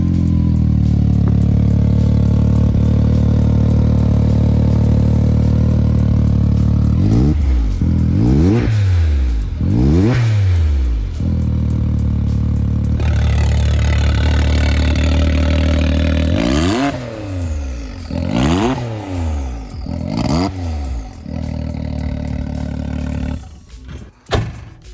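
A Can-Am Maverick X3 side-by-side fitted with an RJWC carbon fiber exhaust idles loudly, then snaps through a series of sharp revs that rise and fall, close and powerful, before settling and cutting off.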